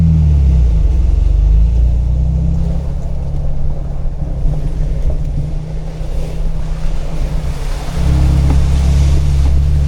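A 4-wheel-drive vehicle pushes through a deep backcountry water crossing in Missouri, a loud, continuous low rumble of engine and churning, splashing water filling the whole stretch, close and steady with no talk.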